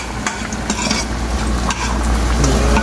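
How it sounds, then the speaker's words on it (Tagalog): Chicken curry made with Korean curry powder bubbles and sizzles steadily in a pan, a continuous close simmering texture with occasional stirring clinks and no voices. "Kumukulo-kulo na."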